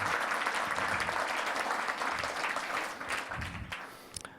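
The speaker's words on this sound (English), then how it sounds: "So give them a round of applause." At a test automation conference, the audience gives steady, dense applause that holds evenly and then thins out toward the end, fairly distant and moderate in level.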